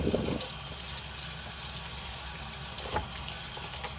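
Cold tap water runs steadily over cooked Japanese noodles being rinsed in a sink, a constant close gush with no talking.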